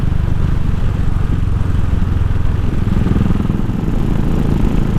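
A Royal Enfield motorcycle cruises at 100 in fifth gear with a Carberry vibration plate fitted, its engine a steady, loud, even drone throughout with constant road rumble and no voices.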